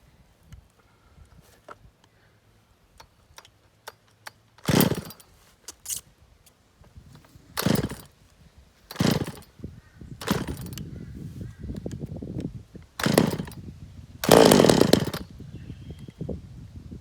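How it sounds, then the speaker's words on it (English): A cold Dolmar 105 chainsaw being pull-started: about six separate bursts of cord pulls and coughing engine, each a second or less, spaced by quiet pauses, with the engine never settling into a run. "the saw is cold, hasn't been started for about a week, so it will take a little bit, maybe 10 pulls to start it"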